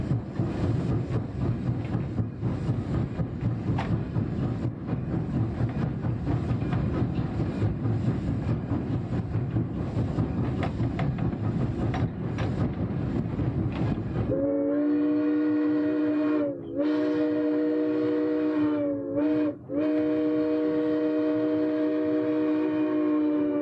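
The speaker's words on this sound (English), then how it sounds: "By balancing the throttle, steam cutoff, and air brakes, the engineer soon has the train up to speed." A steam train gathers speed on a museum railway, its steady rumbling chuff heavy and continuous before a loud, sustained whistle takes over, sounding in long blasts with brief breaks.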